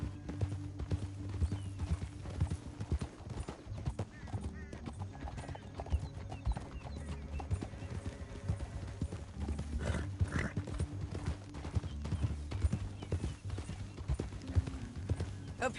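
Horse hooves galloping in the video game Red Dead Redemption, a steady, rapid clip-clop rhythm, with a brief whinny partway through over a low rumble.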